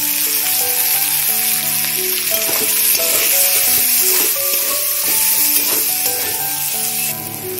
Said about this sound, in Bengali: পেঁয়াজটা আমি এবার ভালো করে বাদামি করে ভেজে দেব।